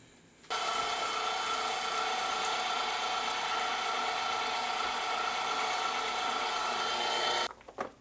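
An electric meat grinder with a small plate grinding beef, venison and brisket fat, starting abruptly into a loud, steady whining drone that holds for about seven seconds before shutting off.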